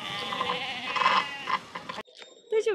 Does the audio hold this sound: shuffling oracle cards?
no